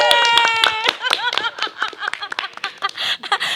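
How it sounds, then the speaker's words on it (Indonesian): Audience clapping at a gathering about the IKOPIN dormitory: uneven bursts of hand claps mixed with chuckles, laughter and overlapping voices, fairly close and lively. "Tepuk tangan dong."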